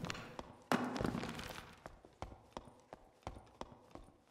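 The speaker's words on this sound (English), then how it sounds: "definitely hear footsteps" Regular footsteps in the dungeon crawler Dark and Darker, a steady run of sharp thuds about every third of a second, moderately close, with a brief louder scuffle near the start.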